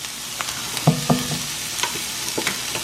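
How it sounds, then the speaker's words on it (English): Jackfruit sizzles with garlic in oil in a pot for a Jamaican jerk dish, under a steady frying hiss with a few close scraping stirs and clinks of a utensil. "we're letting it saute for a minute"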